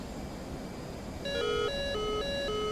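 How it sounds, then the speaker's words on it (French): Radar lock warning alarm in a flight combat video game, a repeating electronic two-tone beeping that starts partway through and pulses steadily over low background noise, with no talk. "Alors là, ça sonne de partout. Je suis accroché par un radar."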